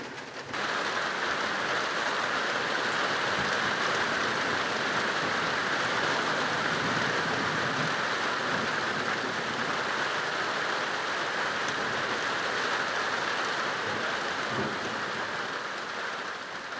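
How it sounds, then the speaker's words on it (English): Steady, dense rain falls continuously, a constant hiss of drops on surfaces with no voices. "It's starting to rain now"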